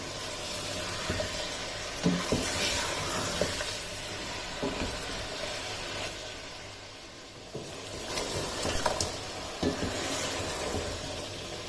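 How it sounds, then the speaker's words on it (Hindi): Beef frying in a pot for degi biryani, a steady sizzle with intermittent stirring scrapes and clinks throughout, close and moderately quiet, no voices. "अब गोश्त के रंग बदलने तक इसे फ्राई कर लेना है।"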